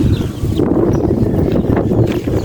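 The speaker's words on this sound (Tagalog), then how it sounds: "Oh, napakahangin ngayon dito." Steady, rough wind buffets the microphone throughout, a close, continuous rumble with no voices.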